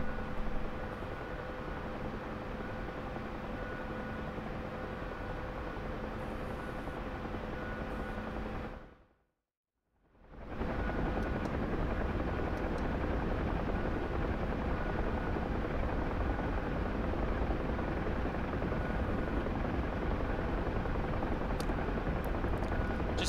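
Helicopter in the DCS flight simulator, a loud continuous engine and rotor roar with a whining tone, cut to a brief silence partway through, then resuming at full strength.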